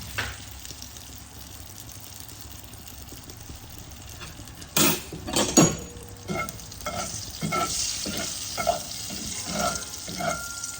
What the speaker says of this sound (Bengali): তেল আমার গরম হয়ে গেছে, আমি কালো জিরেটা দিয়ে দিলাম।